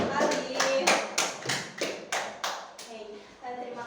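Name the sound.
classroom clapping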